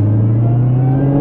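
An 800-horsepower supercharged car engine revs hard in a loud, continuous, close-up droning roar with no pauses.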